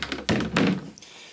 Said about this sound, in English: I'll shut the door to the head